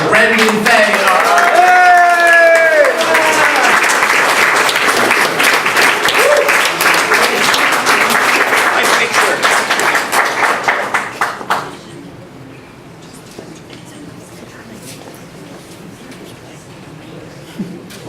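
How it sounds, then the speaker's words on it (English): Audience applause at a Comptroller's Office commendation ceremony fills the room with loud, steady clapping for about twelve seconds, then dies away into quiet room noise. "ladies and gentlemen, a big round of applause for Brendan Fay"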